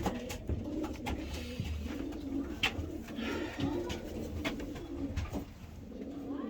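Racing pigeons coo steadily in their home loft after a training flight, a continuous layered murmur of soft throaty calls from several birds close by, with no talking.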